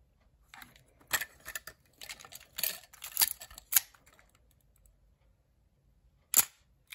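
Mechanical clicks and ratchety film-advance and shutter sounds from a Nikon FM10 film camera with its batteries removed, several sharp close clicks in a burst, then quiet, then one final crisp snap.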